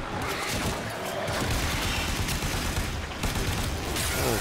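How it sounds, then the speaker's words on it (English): A proton cannon fires in the video game Warframe, a dense burst of booming, crackling shots with mechanical clatter, loud and sustained for several seconds with brief dips, no talk over it. "Proton cannon!"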